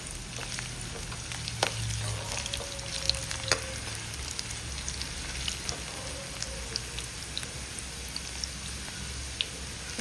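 Pirandai pickle ingredients sauté in a pan with a steady, dense sizzle that runs throughout. Occasional soft clicks and scrapes of stirring sit over it, with no talking.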